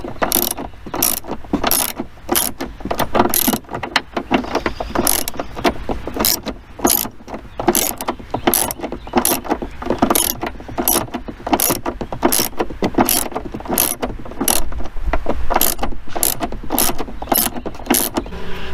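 Rapid metallic clicking of a hand ratchet working a bolt loose on the hatchback lift strut of a 4th-gen Camaro, a steady run of dense, close clicks that continues evenly with no talking.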